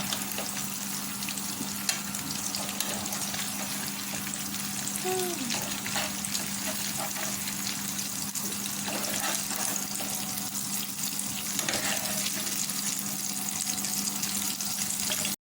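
Prawns fry in hot oil in a pan for a Kerala-style prawn roast, a steady close sizzle and crackle with a low hum running underneath, no voices.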